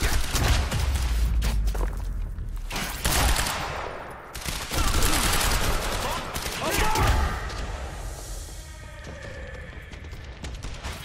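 Sustained bursts of automatic gunfire in the video game Quantum Break, during an escape through a facility garage, loud and dense throughout with crashes and shouting voices mixed in.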